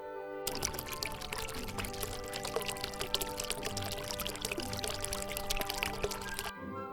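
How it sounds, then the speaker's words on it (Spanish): Water pours steadily in a continuous splashing stream that starts abruptly, runs for about six seconds and then cuts off, with a faint background layer beneath it. "El agua."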